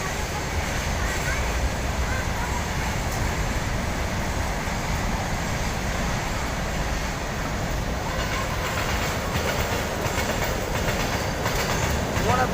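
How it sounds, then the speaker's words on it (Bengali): A train rumbles past steadily near Mahadevsal Shiv temple in Tamsai village, Jharkhand, with continuous rolling wheel noise and clatter, loud and close throughout, with faint voices underneath. "The train is passing by, what a beautiful scene!"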